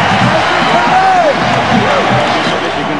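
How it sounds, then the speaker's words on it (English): A crowd of close to 105,000 at a Michigan Stadium football game roars in a loud, sustained wash of cheering and whoops, with a commentator's voice faintly mixed in. "And they're cheering loudly as their defensive fellows are doing a fine job."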